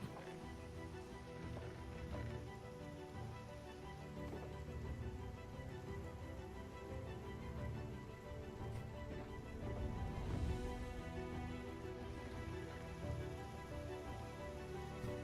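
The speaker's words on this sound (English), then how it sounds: "I can hear the rain. It's nice. Even in Minecraft, I like the sound of the rain." Steady rain pattering on a surface in Minecraft, continuous and fairly close, with no voices over it.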